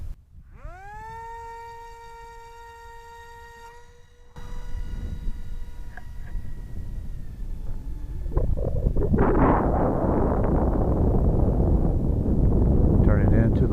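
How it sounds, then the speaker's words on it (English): Gusty outdoor wind buffets the microphone while a Volantex Ranger 600 RC plane is launched on a windy day, a rising electric motor whine giving way to loud, steady rumbling wind noise that swells and stays strong to the end. "It's getting kind of windy out here now"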